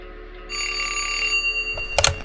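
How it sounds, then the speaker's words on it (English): A telephone bell rings in a quick burst of bright, close metallic trills, stopping abruptly near the end. "Throughout the night, Karl Uphoff received several phone calls"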